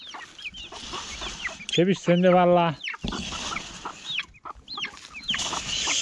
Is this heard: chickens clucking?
yes